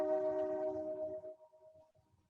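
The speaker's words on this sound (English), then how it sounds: "It does sound like a train going by somewhere" A distant train horn sounds a single sustained, steady tone that holds for about a second and then fades away, with faint rumble underneath.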